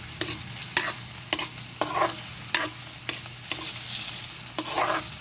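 Dried fish (tuyo) is sautéed in a pan, with a steady soft sizzle under repeated sharp scraping strokes of a utensil stirring against the pan at a brisk, uneven rhythm.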